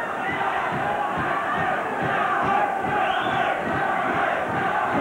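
Boxing crowd of Kane supporters at a Commonwealth and Scottish welterweight title fight, a dense, loud, sustained roar of cheering and chanting filling the hall throughout.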